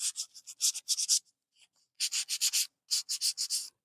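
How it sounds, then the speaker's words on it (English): Paper edges being sanded for a scrapbook layout, giving bursts of quick, close scratchy rubbing strokes in three clusters separated by short pauses, with no one talking. "basically just kind of sand around the edges"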